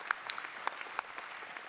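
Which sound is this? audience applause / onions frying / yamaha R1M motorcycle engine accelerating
audience applause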